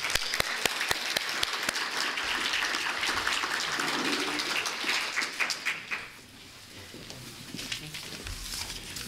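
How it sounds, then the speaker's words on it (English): Audience applause fills the room after a panel discussion at the Indigenous Connectivity Summit 2018, a dense, steady clapping that runs loud for several seconds before thinning into scattered claps near the end. "please give them a round of applause"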